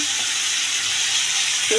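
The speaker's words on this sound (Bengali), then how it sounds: "পাঁচ ফোড়ন শুকনো লঙ্কা ফোড়ন দেবো" Five-spice seeds and dried red chilies temper in hot oil before a potato, pointed gourd and prawn curry. A steady close sizzle runs through the whole short clip.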